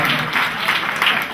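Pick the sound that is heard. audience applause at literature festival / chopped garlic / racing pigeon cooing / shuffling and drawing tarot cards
audience applause at literature festival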